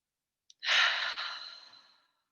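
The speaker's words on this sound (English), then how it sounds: "breathing in through the nose, out through the mouth" A single long, breathy exhale, a yoga breath drawn in through the nose and let out through the mouth, swelling quickly and then fading over about a second and a half, close and soft.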